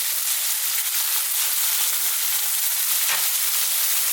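Loud, continuous sizzling of beef curry ingredients being tossed in a hot pan, a dense steady frying hiss close by with a brief stir near the end.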